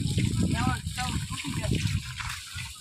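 Water trickles and splashes near the ground while trees are planted in a forest, a faint continuous flow, with people talking over it.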